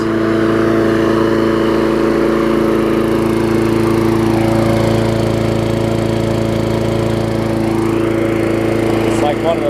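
An old MTD lawn mower with a 3.5 horsepower engine runs at a steady, loud drone close by, its even mechanical hum holding throughout without any pause.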